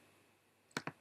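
Two crisp, close computer mouse clicks in quick succession, sharp and isolated after a near-silent stretch during a software installation on a Mac.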